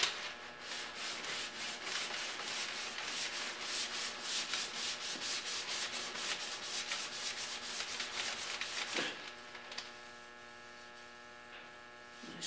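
Rhythmic back-and-forth rasp of a sanding block working primer on a Chevy Cruze body panel, strokes repeating steadily up close before stopping into a faint background hum.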